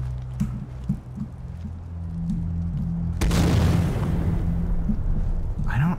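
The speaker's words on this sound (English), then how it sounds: "let's hit him with a frost grenade" Frost grenade exploding in modded Skyrim, a sudden heavy boom that breaks into a crackling, hissing burst and lingers several seconds over low game rumble and scattered thuds.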